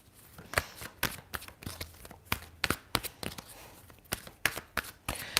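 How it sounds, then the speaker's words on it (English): Tarot and oracle cards are shuffled by hand close up in a run of quick, crisp riffling flutters and soft slaps, repeating at an irregular pace and fairly faint, with no talking. "I will pull one more oracle card"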